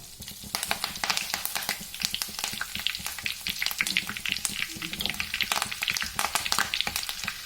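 A clove and a few curry leaves fry in hot ghee, crackling and spattering in dense, continuous bursts, loud and close, with occasional stirring.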